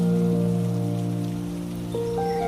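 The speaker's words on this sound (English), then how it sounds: "you heard the sound of raindrops hitting the rooftop" Raindrops patter steadily on a rooftop during a rainy day, a continuous soft hiss of rain lasting throughout with gentle music sustained underneath.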